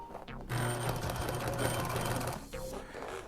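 A sewing machine stitches black thread into a motorcycle seat cover, running in a loud, steady rapid whir with brief pauses and restarts.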